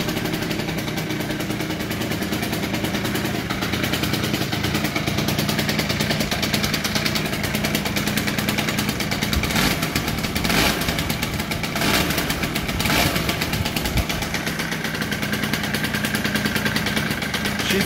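A Honda Spree scooter engine starts and idles, a steady buzzing putter that runs continuously and close by, with a few louder sharp bursts partway through.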